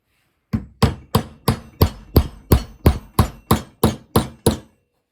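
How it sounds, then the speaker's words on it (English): A hammer tapping a wheel onto a toy, about fourteen sharp, evenly spaced knocks in a steady rhythm, close and distinct against silence. "So if I take a hammer, I should be able to hammer that wheel on."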